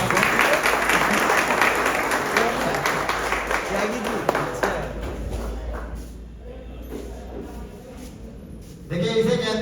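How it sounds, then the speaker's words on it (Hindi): Audience at an anniversary gathering for a CSC bike repair service claps loudly and steadily, then the applause fades away over several seconds as voices take over. "जबरदस्त तालियां।"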